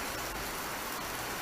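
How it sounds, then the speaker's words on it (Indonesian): Heavy rain pours as a dense, even, broadband hiss that is steady and continuous throughout, heard alone without any voices. "Sini hujan deras guys ya."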